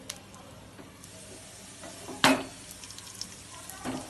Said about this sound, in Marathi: आधी आपण जिरं घालून घेऊया। जिरं छान पॉपअप झालं